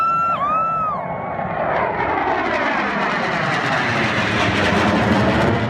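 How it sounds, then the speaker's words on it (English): B-2 Spirit stealth bomber passing over the Rose Bowl, a loud sustained roaring rumble that swells and fills the air, with a brief whistle or cheer at the start. "The B-2 Spirit sneaks into the Rose Bowl like it forgot it's the loudest introvert in the sky."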